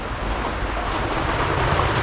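Heavy rain pours into a sailboat's cockpit from the stern, a loud, dense, continuous wash of noise mixed with wind buffeting.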